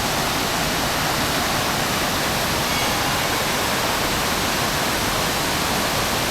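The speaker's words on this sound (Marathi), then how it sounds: "तर हा बघा इकडून धबधबा भारी दिसतो" Dense, continuous roar of a waterfall beside a temple, loud and steady throughout with no breaks.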